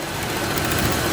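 A Land Rover engine running with a rib come loose from its serpentine belt gives a steady, fairly loud mechanical drone with no distinct revving surges, and no voices.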